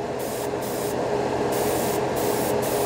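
A Paasche H series airbrush sprays paint in a steady, continuous hiss that stays even and close throughout, with brief gaps in the highest tones, with no talking.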